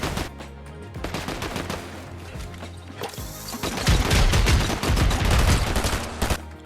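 Rapid bursts of automatic gunfire from the video game Fortnite, loud and continuous with dense overlapping shots that intensify toward the end, without talk.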